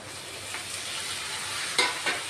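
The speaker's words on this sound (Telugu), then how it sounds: "చూడండి, టమాటా వేస్తున్నాను. ఉల్లిపాయ వేగింది" Chopped tomato drops into fried onions in a hot pan for egg curry, giving a steady close sizzle with a couple of sharper hissing bursts and a light clatter of stirring near the end.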